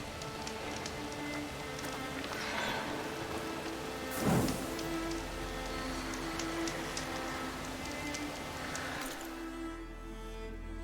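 Steady rain falls in the video game Horizon Forbidden West, a dense hiss of drops on surfaces. A brief louder gust swells midway, and the rain thins out near the end.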